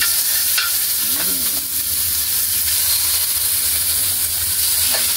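Pork fat frying in a pan to render oil, a loud continuous hissing sizzle filling the whole stretch with a couple of faint scrapes, close and without talk.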